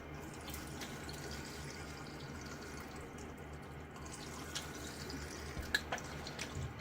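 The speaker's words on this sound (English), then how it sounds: "I'm gonna rinse my face, a little half rinse." Water at a bathroom sink as a face is rinsed during a shave, faint splashing and dripping with a few small louder splashes toward the end, over a low steady background hum.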